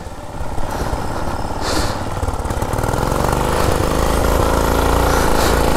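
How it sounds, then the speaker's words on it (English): A vintage 1947 Whizzer Model H motorized bicycle engine runs up under throttle, a loud close, rapid single-cylinder putter that steadily rises in pitch and intensity while the bike gets underway. "I'm going to want to clutch in, pedal up to like 5 miles an hour, and then give it some throttle"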